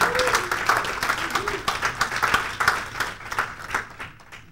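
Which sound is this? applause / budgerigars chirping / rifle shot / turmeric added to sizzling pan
applause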